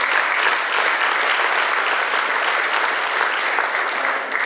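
Parents at a high school senior awards night give themselves a dense, sustained round of applause, loud and steady throughout with many hands clapping at once.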